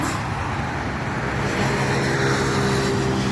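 Steady highway traffic hums beside the road, a continuous wash of passing vehicle noise at moderate distance with no speech.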